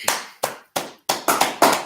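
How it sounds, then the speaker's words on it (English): Hands clap in a slow, deliberate rhythm, six crisp claps ringing out close by, the last few coming a little quicker and louder, with no talking over them. "All right, let's clap it up."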